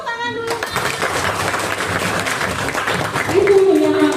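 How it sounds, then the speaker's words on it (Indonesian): A Grade 5 classroom of children bursts into applause, a dense burst of clapping that lasts a few seconds, with voices chattering over it and rising at the end. "tepuk tangan dulu"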